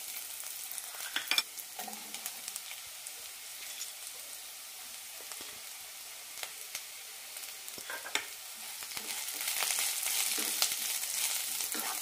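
Sliced onion and cabbage fry in a pan for a cabbage chutney, giving a soft, steady sizzle broken by occasional stirring scrapes. The sizzle swells louder toward the end, and no voices are heard.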